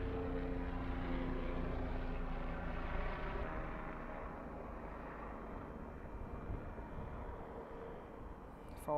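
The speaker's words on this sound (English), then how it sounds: "it looks like we got the Alaska flight from Seattle to Boise" An Alaska Airlines jet on a Seattle to Boise flight near Boise Airport, a steady distant engine rumble that slowly fades, with no talk.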